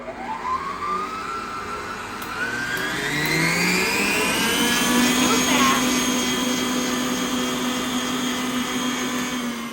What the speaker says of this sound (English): Keep mixing.